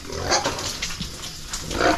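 Farm pigs grunt and squeal in a rough, continuous cluster close by, with no talking.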